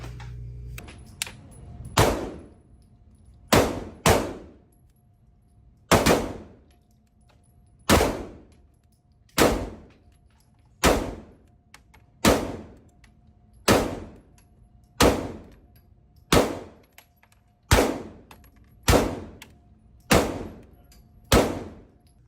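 An HK rifle fires single shots during reset-trigger drills, about a dozen loud, sharp reports spaced one to two seconds apart, each with a brief ringing decay, outdoors at a range.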